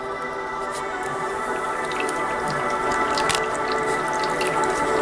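Water poured into the top reservoir of an HHO limelight lamp, a steady wet trickle and drip running close and continuous throughout, with no talk.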